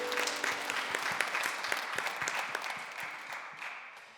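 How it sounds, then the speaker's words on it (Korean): A church congregation claps together during a Sunday young-adults worship service, steady dense applause filling the room for several seconds and slowly tapering off, with no talking over it. "서로를 격려하면서 박수하겠습니다."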